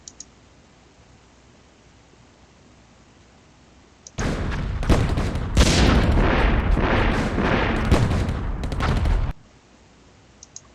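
A bombing run on rebels in the strategy game Emperor of the Fading Suns bursts into about five seconds of loud, dense rumbling explosions and crackling blasts, then cuts off abruptly back to quiet hiss.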